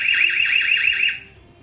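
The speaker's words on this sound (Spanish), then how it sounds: "activas la alarma. Es bastante escandalosa y os la voy a enseñar brevemente antes de que los vecinos llamen a la policía" EZVIZ eLife BC1C security camera siren sounding a loud, piercing, rapidly warbling alarm tone for about a second before cutting off, heard up close.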